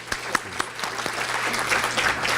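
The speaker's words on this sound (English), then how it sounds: "Let's give everybody a round of applause again," Applause from a chamber of commerce meeting crowd, starting with a few distinct claps and building into a steady, dense round of clapping.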